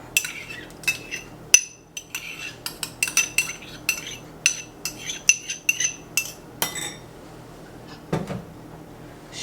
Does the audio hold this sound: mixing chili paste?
yes